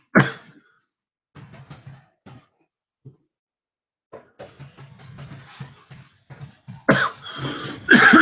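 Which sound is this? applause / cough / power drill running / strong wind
cough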